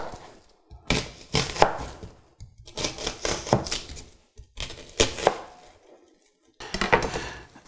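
A knife slices a peeled vegetable, likely an onion, into half moons on a cutting board, in repeated bursts of quick close chopping taps separated by short pauses, with no talking.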